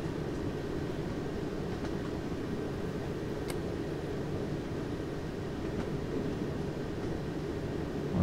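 A train rumbles steadily in Train Sim World 2020 on the Rhein-Ruhr main line as it switches tracks, with faint clicks and a low continuous drone, no voices.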